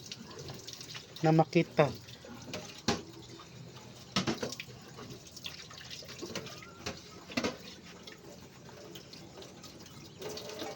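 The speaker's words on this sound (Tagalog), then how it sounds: "Banlawan ng maigi hanggang sa wala ng sabon" Dishes are rinsed under a running kitchen tap at a sink, with faint, soft splashing and clinks of dishware, as a voice speaks briefly.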